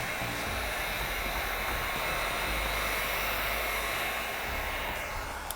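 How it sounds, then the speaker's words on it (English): Heat gun blowing hot air onto window tint film on a 2016 Honda Accord window, a steady loud whooshing roar held throughout, close to the mic. "with the card wrapped with the towel with the heat gun on the top"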